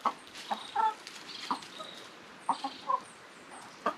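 Several chickens cluck in short, scattered bursts over a quiet background, some calls nearer and louder than others.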